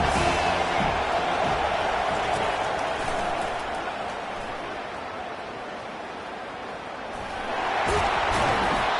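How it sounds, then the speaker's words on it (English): A football stadium crowd roars steadily against the offense, a dense wash of noise that dips slightly in the middle and then swells louder again toward the end. "This crowd trying to make life miserable for this offense."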